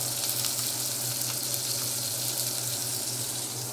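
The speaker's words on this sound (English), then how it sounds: "Cook your sausage on all sides" Sausage fries in a pan with butter as a steady, dense hiss and sizzle, close and continuous for the whole stretch without talking.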